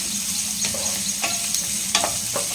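Ragi semiya upma sautéing in a pan with rock salt, a steady frying sizzle broken by several sharp scraping stirs of a spatula, close and fairly loud, with no talking.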